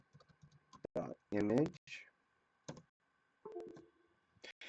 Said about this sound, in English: So we're going to type fastboot boot recovery